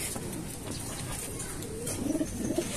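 Birds call outdoors, with soft low cooing like a pigeon or dove rising near the end over a faint background hiss.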